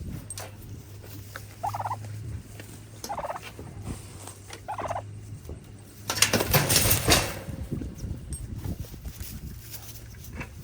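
Several turkeys gobble in short bursts across the scene, with a louder, denser flurry of gobbling and fowl clucking midway, over a steady low hum outdoors.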